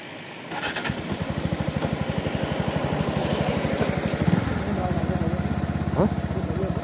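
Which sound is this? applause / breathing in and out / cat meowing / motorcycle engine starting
motorcycle engine starting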